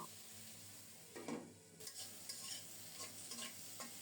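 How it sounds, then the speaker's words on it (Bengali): Okra frying in a covered pan, giving a steady low sizzle with a few scraping stir sounds and clinks partway through, close by and with no voices. "ঢাকা দিয়ে ভেন্ডিগুলোকে খুব সুন্দর মতো ভেজে নেব"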